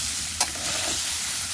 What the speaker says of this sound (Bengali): ভাজাটা প্রায় অর্ধেকের বেশি হয়ে এসছে, এর মধ্যে দিয়ে দিয়েছি কুচিয়ে রাখা পেঁয়াজ আর কয়েক কোয়া গোটা রসুন